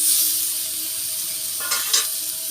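Drumstick flowers and a small tomato sizzle and crackle in hot oil in a pan, a steady close frying hiss with a couple of brief stirring clinks near the end and no voices.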